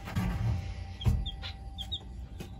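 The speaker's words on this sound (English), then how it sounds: "They're the dark Brahma chickens, and they have feathered feet" Dark Brahma chickens, a feathered-footed breed, cluck softly in a couple of low bursts, with a few faint higher chirps from chicks close by, alone with no talk.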